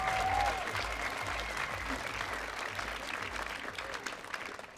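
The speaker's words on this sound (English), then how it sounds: "Another big round of applause for the fashion history students" Audience applause fills a fashion show venue at a university apparel design event, a steady wash of clapping across the hall that runs throughout with no speech over it.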